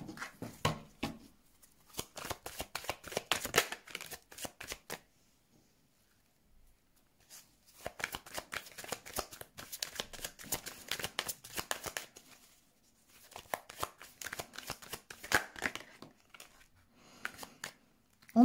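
Tarot cards being shuffled by hand in bursts of soft papery riffling and slapping, close and quiet, with gaps of near silence between the bursts.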